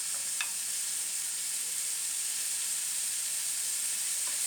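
Onion fries in table oil and is stirred, giving a continuous, even sizzle with a bright hiss throughout and a few faint utensil scrapes, no voices.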